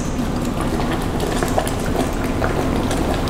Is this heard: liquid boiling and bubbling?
yes